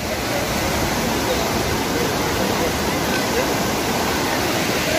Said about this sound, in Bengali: এখানে মন্দাকিনী বয়ে চলেছে প্রচণ্ড জোর, বিশাল স্রোত।